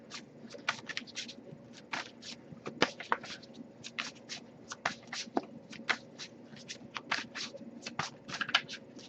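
Rapid, crisp riffling and soft slaps of a tarot card deck being shuffled over and over, close up and fairly quiet, with no talking.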